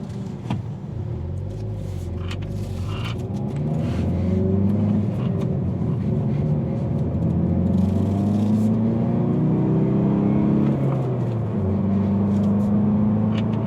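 A 2019 Hyundai Veloster N accelerating in normal mode, heard from inside as a loud, steady engine drone that climbs in pitch through the gears, with brief dips at shifts and no voices.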